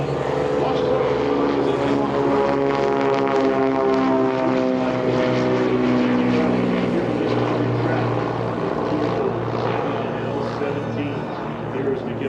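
L-17 Navion warbird propeller planes depart in pairs from runway 36 at EAA AirVenture, a loud sustained engine drone with shifting pitch as they climb away, with a voice talking over it.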